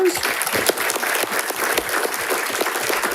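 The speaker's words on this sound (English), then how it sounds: "Let's give her a round of applause." Steady applause from a school board meeting audience fills the whole stretch, dense and even, with no voices standing out.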